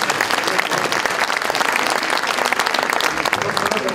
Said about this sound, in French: Alors nous vous applaudissons extrêmement fort.